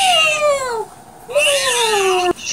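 A cat meows twice in a children's song, two drawn-out, falling cries close and loud, the second longer and ending abruptly, with no talking over them.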